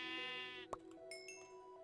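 A sheep in a video game gives a wavering bleat, followed by a sharp click and a few brief game sound effects, all fairly faint.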